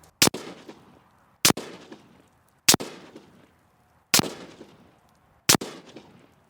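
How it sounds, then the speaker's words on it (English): Five sharp gunshots from a rifle fitted with a $70 red dot sight, fired at a steady pace about a second and a half apart, each a crisp crack with a short decaying echo, alone and fairly distant. "we're gonna do 5 more shots of the top piece of tape and see if we hold zero"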